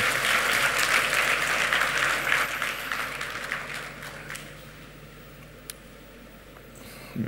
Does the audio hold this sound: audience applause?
yes